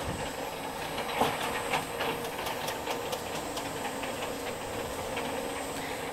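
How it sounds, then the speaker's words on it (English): Sheet metal leveling unit running on a garage door production line, a steady mechanical hiss and rumble with a few faint clicks and knocks, no voices. "they insert the sheet into this leveling unit"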